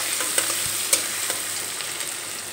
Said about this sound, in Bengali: পেঁয়াজ কুচি দিয়ে একটু নেড়ে চেড়ে নেব